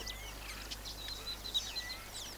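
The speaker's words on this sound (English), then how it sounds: "the sound of weaver birds building their nests." Busy chirping and chattering of many small weaver birds building their nests, thin and high, over a faint steady background hum.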